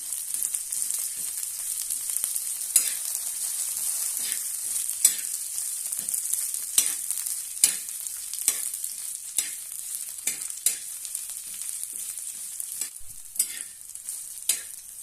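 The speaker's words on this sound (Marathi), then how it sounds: "आता त्यावर खोबरं घालूया थोडंसं कोथंबीर आणि लसूण हे सर्व आपण छानपैकी भाजून घेऊया" Grated coconut, coriander and garlic roasting in hot oil, a steady high sizzle with repeated stirring scrapes and clicks from a spoon against the pan, close and continuous, no talking.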